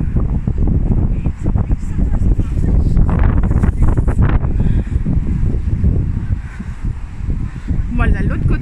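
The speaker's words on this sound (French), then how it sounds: "il y a le vent qui me pousse" Strong coastal wind near the Giant's Causeway in Northern Ireland buffets the microphone with a loud, continuous low roar that gusts and rises throughout.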